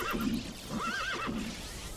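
A horse crab creature in the video game CHKN lets out a whinnying neigh, two or three wavering cries over a quiet game background, fairly close and clear.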